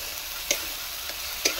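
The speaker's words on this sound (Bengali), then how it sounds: "আদা রসুনের গন্ধটা যতক্ষণ না যাচ্ছে ততক্ষণ কষতে থাকবো।" Ginger garlic paste with green chilli sautéing in hot oil for a jackfruit curry, a steady hiss and sizzle broken by a few soft scraping stirs of a spatula, close and continuous with no talk.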